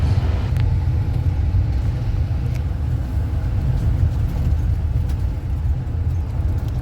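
Car driving along the Taylor Highway in Alaska, a steady loud low road rumble and engine drone from inside the vehicle, continuous with no talk.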